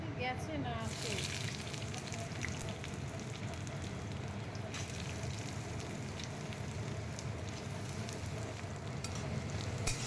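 Soaked chickpeas frying in a pan, a continuous close sizzle and hiss with occasional stirring scrapes; someone talks over the cooking.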